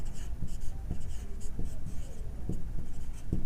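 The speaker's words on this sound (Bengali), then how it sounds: "এখন লিখবো" Handwriting during a sixth-grade maths lesson, pen or marker strokes scratching in short repeated bursts with brief pauses, close and fairly clear with no talk.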